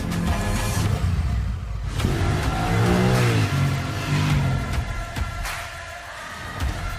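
A 2021 Honda Rebel 1100 motorcycle engine revs up and down loudly and close by, with rising pitch sweeps as it accelerates through quick gear changes at high revs.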